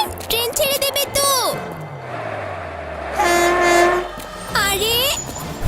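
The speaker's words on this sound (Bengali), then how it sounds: "ট্রেন চলে যাচ্ছে তো" A train at a station platform, the Mikado Express, with a loud horn blast and a low engine rumble under overlapping voices and announcements in a busy crowd.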